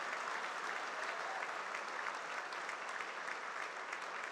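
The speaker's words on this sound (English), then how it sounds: "give them a big round of applause" Audience at an alumni awards ceremony applauding steadily, a dense, even wash of clapping from many hands with no talk over it.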